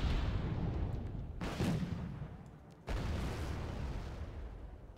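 Two heavy booming blasts of gunfire from a Wargame Red Dragon battle, each dying away in a long rumbling tail, with a dull low background roar between and after them.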